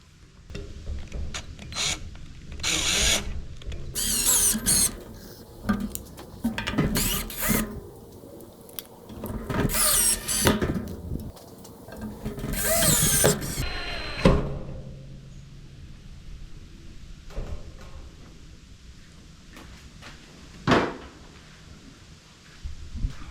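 A power drill backs a black chrome screw out of hairpin table legs in several short whirring bursts, close and loud, mixed with handling clatter and a knock, then a quieter stretch with a lone tap near the end.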